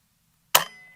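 A single sharp crack from a Niksan Escalade T .22 caliber tactical rifle at a shooting range, loud and close, with a quick metallic ring fading out after a faint low hum.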